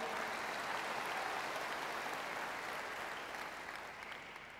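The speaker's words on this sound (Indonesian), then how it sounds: "Tepuk tangan untuk Yesus Tuhan kita." A church congregation at an indoor revival gathering claps together, a dense sustained roar of applause that slowly fades toward the end.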